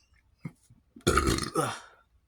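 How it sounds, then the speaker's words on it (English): A person burps after eating chicken ramen, salmon and potatoes: a few small throat sounds lead into a loud, drawn-out close burp with a second rolling surge at the end. "There's that type of gas, the burps, but not much farts."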